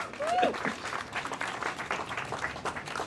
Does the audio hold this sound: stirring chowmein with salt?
no